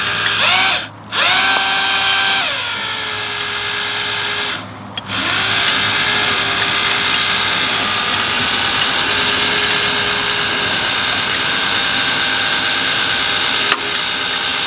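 A power drill runs during work on a Ford Galaxie engine. Its loud, steady whine stops briefly twice near the start, then carries on continuously and close by.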